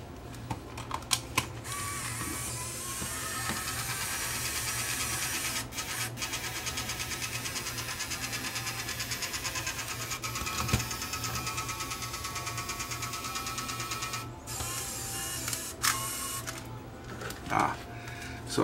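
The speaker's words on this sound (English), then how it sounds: "So it's not threading the tape properly. A mechanical problem." A faulty Panasonic PV DV900 camcorder with a mechanical problem, its tape mechanism whirring continuously for several seconds, bracketed by clicks and handling noises at the start and end, with faint talk in the background.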